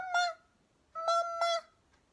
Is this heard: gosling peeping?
yes